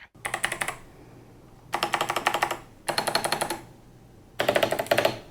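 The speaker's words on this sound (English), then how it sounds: "they're a bit loud to use during video calls, and I'm not a huge fan of the spacebar's thwack" Four bursts of rapid, clacky typing on an 8BitDo mechanical gaming keyboard separated by short pauses, with sharper, heavier spacebar thwacks mixed in, close and loud.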